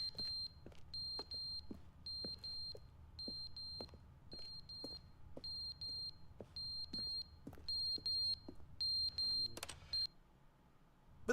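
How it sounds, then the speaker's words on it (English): A fire alarm beeps in a video game, repeated short high electronic beep clusters in a steady rhythm over faint ticking, fairly quiet, with no talking. "Oh, that's the fire alarm."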